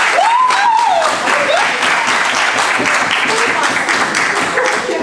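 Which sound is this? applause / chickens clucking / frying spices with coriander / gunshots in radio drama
applause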